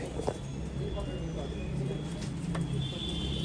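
Saharanpuri pigeons coo in low, rumbling murmurs, steady and close, with a few soft flutters and taps mixed in under a continuous busy background.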